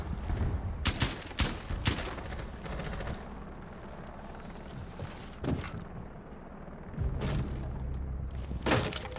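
Sharp, isolated gunshots from the Twitch operator's weapon in a tactical video game, several spaced cracks over a low, muffled background of ambient game noise.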